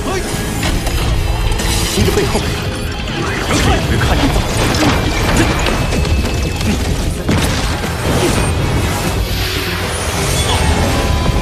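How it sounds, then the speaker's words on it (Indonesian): An unrelenting cannon barrage in the Soul Land 2 animation, a dense wall of loud booms, crashes and metallic impacts rolling continuously without a break. "Gempuran tembakan meriam tanpa henti tidak lantas mampu menyentuhnya"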